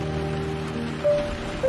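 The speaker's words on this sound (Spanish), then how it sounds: "Está lloviendo." Steady rain falls around a parked car, a continuous hiss of drops holding at an even level, with a faint low tone and a short brighter sound near the end.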